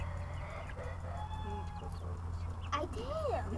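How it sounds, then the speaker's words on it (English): Backyard chicks clucking and peeping while pecking at worms on the ground, short chirps and a rising call over a constant low hum, fairly close, with no speech. "Chickens, eat the worm. Eat the worms, chickens."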